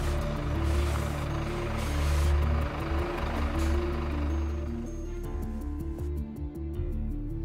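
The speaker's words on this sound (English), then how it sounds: "Now let's consider stopping a fully laden truck." A fully laden truck brakes to a stop with disc brakes: a loud, close engine rumble with a tonal whine, fading into lower running noise as it slows.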